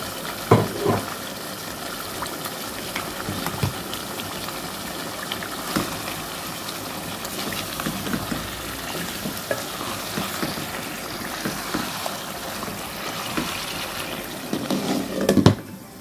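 Fish frying in hot oil for a curry, a continuous close sizzle with scattered crackles and stirring clatter, and no voices.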